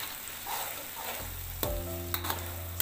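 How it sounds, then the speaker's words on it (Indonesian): Blended chili spice paste with anchovies for teri kacang balado hits hot oil with a sudden loud sizzle after a low hiss. Steady frying follows, with a few sharp scrapes and clinks as the mixture is stirred. "sekarang kita masukkan bahan-bahan yang sudah kita blender tadi ya. Masukkan. Lalu kita aduk."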